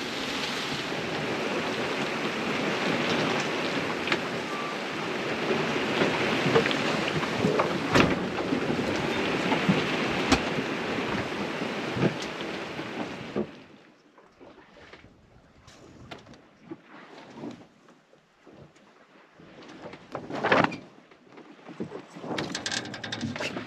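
Heavy rain and gusting wind batter a 30 ft sailboat during a thunderstorm in the doldrums at sea, a loud dense roar for about thirteen seconds before dropping to scattered drips, splashes and wind gusts.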